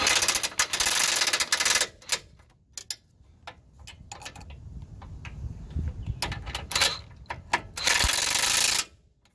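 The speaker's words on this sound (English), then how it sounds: "now I can just tighten them up" A wrench tightens 17 mm bolts on the rack and pinion of a 2003–2009 Toyota 4Runner, making rapid close ratcheting clicks in bursts separated by short pauses, loud and alone.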